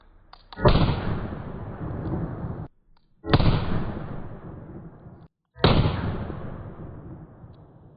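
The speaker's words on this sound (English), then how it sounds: "shoot 3 of the Magnum primers, 125 grain 357 Magnums" Three loud gunshots from a handgun firing 125-grain .357 Magnum loads with Magnum primers, evenly spaced about two and a half seconds apart, each a sharp blast with a long decaying tail and no talk between them.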